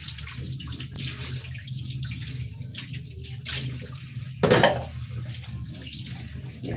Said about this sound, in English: So I'm rinsing the sink before I can continue with my cooking